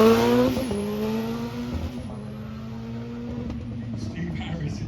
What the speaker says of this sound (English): So this is a rallycross version where he's pumped up the power